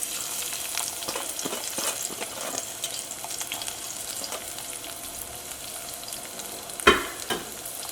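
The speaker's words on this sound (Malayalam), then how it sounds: "ഇനി ഇതിലേക്ക് ഇഞ്ചിയും വെളുത്തുള്ളിയും ചേർക്കാം." Ginger and garlic fry in hot oil for restaurant-style chilli beef, giving a steady close sizzle throughout, with one sharp utensil clank near the end.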